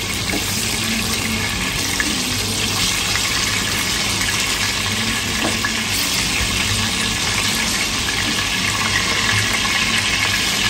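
Pieces of chicken roast meat fry in hot oil, giving a loud, steady, close sizzling hiss that never lets up, with no talking.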